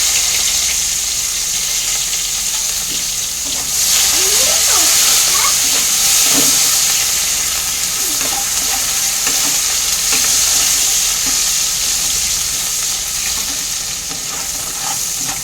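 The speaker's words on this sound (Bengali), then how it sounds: "আমি পেঁয়াজ বেরেস্তা করে নিচ্ছি" Onions fry in hot oil until golden brown, a loud, steady, close sizzle with occasional stirring scrapes across the pan and no voices.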